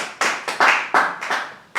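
A church congregation claps in a few uneven bursts that fade between strokes, close and fairly loud, with no voices.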